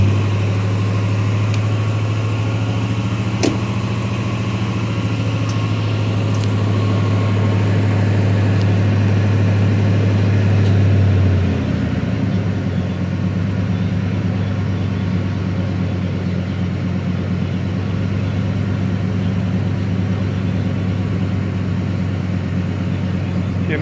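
A Ford Expedition engine idles with a loud, steady low drone while the air suspension lifts the body, a constant hum that shifts down about halfway through, with a couple of faint clicks and no talk.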